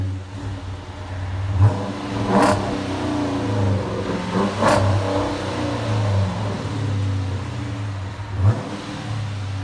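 A deep 5.7 HEMI V8 in a 2014 Chrysler 300C, with dual exhaust and muffler delete, rumbles steadily and is revved sharply three times, each rev a quick rising roar through the exhaust, close by.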